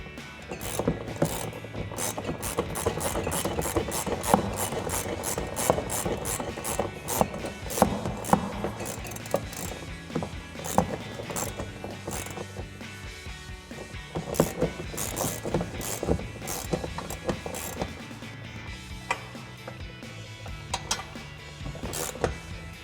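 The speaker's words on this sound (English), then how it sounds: "17mm wrench to tighten that down" A 17mm wrench ratchets as it tightens a bolt on a front leveling kit being installed on a RAM 2500 truck, giving quick repeated metallic clicks in bursts with short pauses between them.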